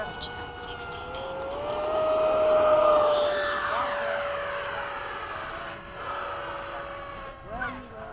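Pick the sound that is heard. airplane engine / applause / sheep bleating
airplane engine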